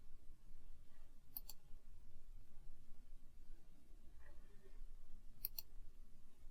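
Sharp mouse clicks selecting options in Logos Bible Software, heard as two quick double-click pairs, one early and one near the end, over a low steady background hum.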